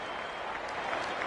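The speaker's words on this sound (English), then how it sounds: "The crowd goes up with a kickoff." A stadium crowd in a football video game roars at kickoff, a steady, dense wash of cheering and applause that swells slightly over a little more than a second, with no speech.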